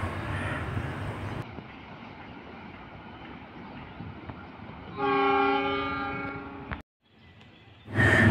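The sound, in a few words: tanker freight train passing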